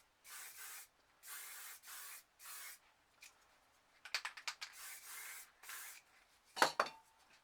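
Bursts of spray paint hissing from an aerosol can onto a canvas, three even sprays followed by shorter, choppier spurts and a louder final puff, close up with no talk.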